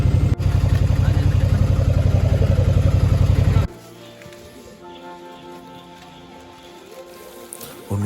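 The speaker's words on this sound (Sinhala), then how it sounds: "ලොකු වර්ෂාපතනයක් ඇදහැල්ලා මේ වෙලාවේ" Heavy monsoon rain pours down on a road in Anuradhapura, first a loud, dense roar for about three and a half seconds, then a quieter, steady wash of rain with faint background sounds.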